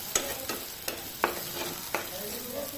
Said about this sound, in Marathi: तर इथे कांदा आपण भाजून घेऊयात कांदा खूप जास्त डार्क पण करायचा नाही